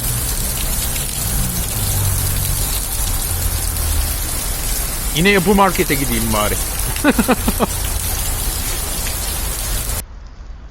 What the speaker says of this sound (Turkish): Çok çılgın yağmur yağıyor.